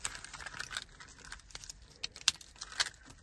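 Car ignition keys for a 2018 Hyundai Solaris jangle close up, a run of bright metallic clinks and rattles in short irregular bursts with no talking.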